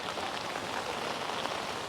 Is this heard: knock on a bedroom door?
no